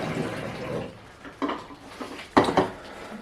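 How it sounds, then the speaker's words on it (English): Liquid film developer is poured from a canister into a small tub, giving a splashing, gurgling stream at first. A few brief clinks and sloshes follow, close and fairly quiet. "We've got a little tub under here that we're just going to pour the dev into."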